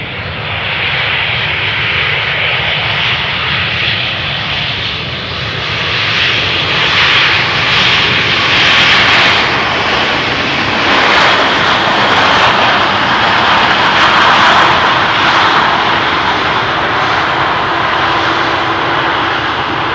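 An EasyJet airliner lands on runway 18R at Amsterdam Schiphol Airport in calm weather, with a loud, steady jet engine roar that swells and holds for the whole stretch, with no talk.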